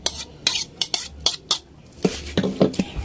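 Cooked pork and carrots are stirred in a pan, with a spoon scraping and clanking against the metal in a regular series of sharp knocks, followed by a faint sizzle.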